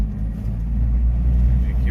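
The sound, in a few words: John Deere minitruck engine running under load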